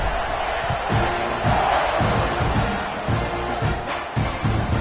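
A football stadium crowd at a Texas A&M game roars in a continuous, distant wash, with scattered thumps and shouts throughout.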